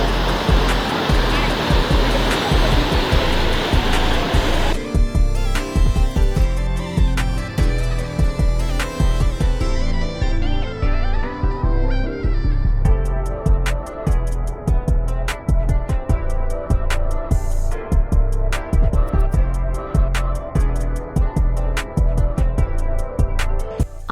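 An overflowing dam waterfall at Lonavala pours in a loud, continuous broadband roar of rushing water that fills the whole clip, heard close with background music layered over it from about five seconds on.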